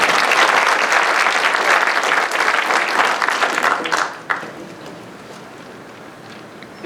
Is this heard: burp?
no